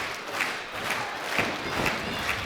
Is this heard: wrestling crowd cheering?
yes